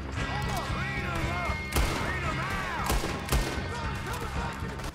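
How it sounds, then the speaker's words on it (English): A gunshot and headshot in the Red Dead Redemption 2 video game: several sharp, separate shots over an outdoor camp scene. Someone talks quietly over the soundscape throughout. "That was a headshot"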